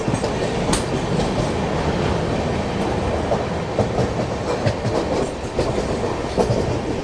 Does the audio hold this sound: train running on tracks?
yes